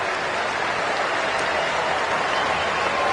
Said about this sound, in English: with the sympathetic applause from the crowd